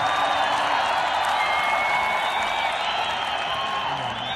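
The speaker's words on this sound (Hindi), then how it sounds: "तो मैं चाहूंगा एक बार इस पूरे सफल आयोजन के लिए, इस शानदार स्टेडियम के लिए बहुत जोरदार तालियां" Loud, sustained applause and crowd noise from an audience at the opening of the international cricket stadium in Dehradun, Uttarakhand, a steady roar of clapping lasting throughout.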